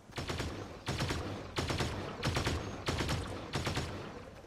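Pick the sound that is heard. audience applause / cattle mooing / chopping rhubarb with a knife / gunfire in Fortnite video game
gunfire in Fortnite video game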